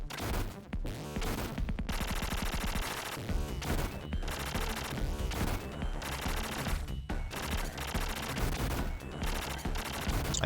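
Rapid gunfire from the shot 2 weapon in Contra Hard Corps blasts continuously, a dense stream of game shots layered over loud music and explosions, with no pauses across the whole stretch.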